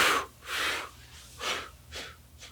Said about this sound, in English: So breathing everything out.